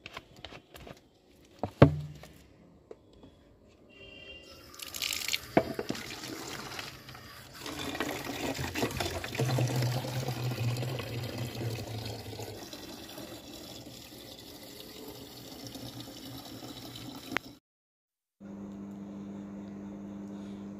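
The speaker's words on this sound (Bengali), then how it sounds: "চলো গাছে জল দিয়ে দিই।" Water poured onto a potted plant at home, a steady splashing, trickling pour lasting several seconds, fairly close, followed by a quieter tail and a low hum; no talk.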